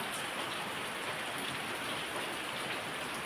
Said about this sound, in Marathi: बघा पाऊस चालू आहे आता बाहेर